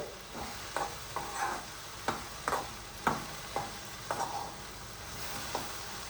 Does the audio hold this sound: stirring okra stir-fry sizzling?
yes